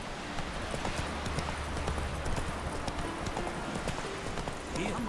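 Galloping horse hooves in The Witcher 3 video game, a fast continuous clip-clop close up under a steady bed of ambient game noise, with someone talking over it.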